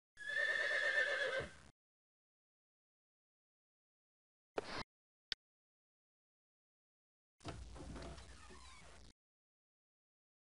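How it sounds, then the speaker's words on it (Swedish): A horse standing on the veranda of an old house whinnies loudly and close, then stays silent before a couple of brief knocks and a rougher, breathy snort. "Det står en häst på verandan till det gamla huset."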